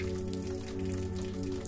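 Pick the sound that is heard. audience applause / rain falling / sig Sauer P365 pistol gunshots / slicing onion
rain falling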